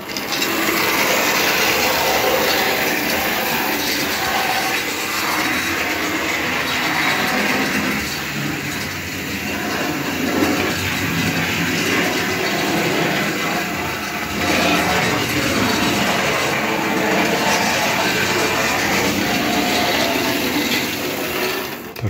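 A BR98 tank steam locomotive, number 80014, runs with a continuous loud mechanical whirring and rattling that holds steady from start to finish, with no speech over it.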